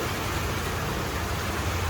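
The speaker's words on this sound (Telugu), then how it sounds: "ఇంత బాగా పడుతుంది ఇంత బాగా పడితే తగ్గిపోద్ది అనుకున్నాను" Heavy rain falls in a steady, dense hiss that holds at an even loudness throughout, with no voices.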